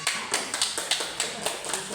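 A group of women teachers claps at a school workshop session, a loose run of sharp, fairly close hand claps with a voice speaking over them.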